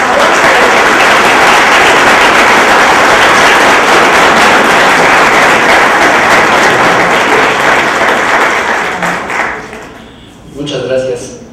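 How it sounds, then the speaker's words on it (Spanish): Loud, sustained applause from an auditorium audience at a Spanish-language talk on the media, dense clapping fading out near the end as a voice begins. "Le pido que le demos un caluroso aplauso"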